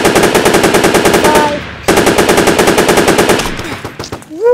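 Rapid automatic gunfire in a Roblox video game rattles out in two loud sustained bursts separated by a short gap, then trails off into scattered shots, with no talk over it.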